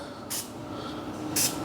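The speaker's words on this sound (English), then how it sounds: "You can use a spray can, or you can use, you know, a little dropper." Oil is sprayed from an aerosol can into a Verney Carron Veloce rifle, giving two short hissing bursts, the second louder and longer, over a quiet steady background.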